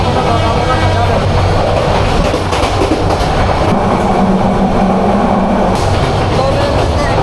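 The Parjatak Express rolls from Dhaka to Cox's Bazar with a loud, steady rumble and a continuous clickety-clack of wheels on rail, heard up close from inside the carriage with no voices.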